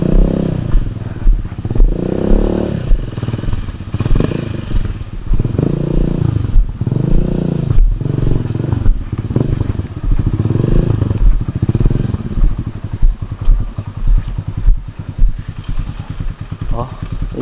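A Honda Beat motor scooter runs loudly up close, its engine pulsing and revving in uneven bursts with clattering, while people talk nearby.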